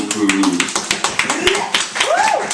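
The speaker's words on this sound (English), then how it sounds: "a huge round of applause for the very professional, unique technique" A small open mic crowd in Battersea claps, with distinct individual claps in an uneven rhythm, close and fairly loud, while voices and whoops sound over them.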